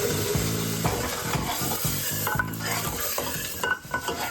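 Dal tadka tempering with dried red chillies sizzling in hot oil, a loud continuous crackling fry with rhythmic scraping and stirring strokes, with no talk.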